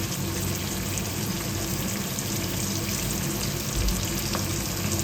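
Soy sauce and red chilli sauce sizzle in a hot pan with paneer for garlic paneer, a steady close hiss and crackle running throughout with no talk.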